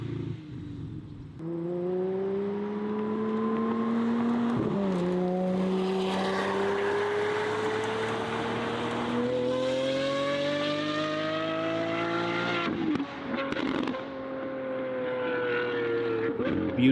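A Lamborghini Aventador Ultimae with a valved Valvetronic exhaust accelerates hard, its engine note climbing steadily through several gears with sharp breaks at each shift, loud and sustained with no talk over it.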